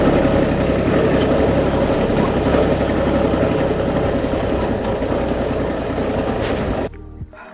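A farm tractor's engine runs steadily nearby, a constant low rumbling drone with a dense throbbing texture that holds for several seconds before dropping away near the end.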